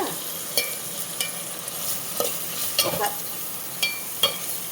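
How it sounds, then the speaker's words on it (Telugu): Onions and green chillies fry in hot oil for a small prawn curry, a steady crackling sizzle punctuated by regular sharp clinks and scrapes of a spoon stirring the pan. "ఉల్లిపాయలు, పచ్చిమిరపకాయలు వేస్తున్నాను."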